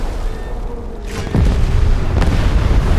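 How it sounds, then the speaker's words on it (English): A warship's forward magazine blowing up in a naval video game, starting as a deep booming explosion and followed by a sustained, heavy rumble. "The forward magazine just starts exploding."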